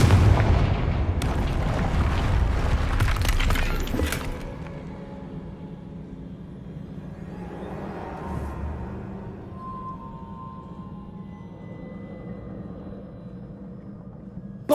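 A fiery Confringo spell blast in Hogwarts Legacy, a loud burst of booming, crackling explosions over the first few seconds that decays into a low rumbling hum and quiet ambience.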